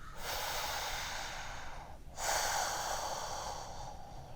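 Long, steady nasal breaths drawn in during a yoga back-strengthening pose, two sustained airy inhalations separated by a short pause, close and fairly loud with no talking.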